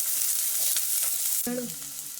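Green chillies and chopped onion fry in hot oil with a steady, dense sizzle throughout, and a short clatter of stirring comes near the end.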